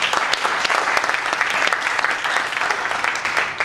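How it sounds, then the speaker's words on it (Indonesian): A church congregation claps together during a sermon, loud and dense hand-clapping from many people close by, steady and continuous throughout with little talk. "Kita berikan tepuk tangan bersama."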